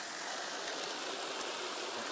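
Water rushing at high flow through a bucket-style micro-hydro generator, a steady broadband roar with a faint mechanical hum underneath, continuous and close.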